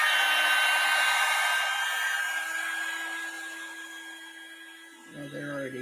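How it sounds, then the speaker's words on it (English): Blow dryer whirring steadily while drying acrylic paint on a one-stroke rose and butterfly stencil painting, a close, loud, even hum that fades slightly before switching off near the end. "you can blow a blow dryer or the heat pen"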